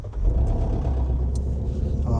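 A Shelby GT350 with a 5.2 Voodoo engine rumbles steadily while riding, a loud low continuous drone with slight revving swells and no talking.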